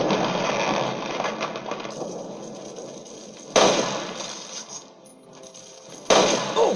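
Two sharp gunshots ring out a few seconds apart over a busy, hissing Fallout 3 game soundscape, each a sudden loud crack.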